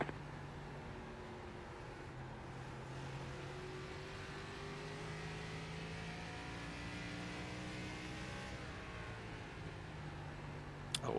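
Race car engines droning steadily on the Richmond oval in iRacing, a continuous layered roar with rising and falling pitch as cars circle nearby, without pause.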